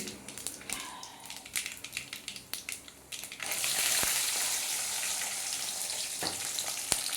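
Garlic hitting hot oil for a tomato pickle crackles and spatters in uneven pops at first, then swells into a loud, steady sizzle, with a couple of sharp clinks of a utensil against the pan.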